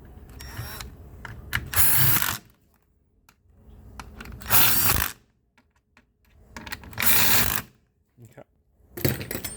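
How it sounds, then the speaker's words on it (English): An impact driver runs a bolt down on a Ford 6R80 transmission, firing in three or four loud, close bursts of rapid hammering, each lasting about a second with quiet pauses between. "if you want to do this with your impact driver here, just run it down slowly like that and then torque it"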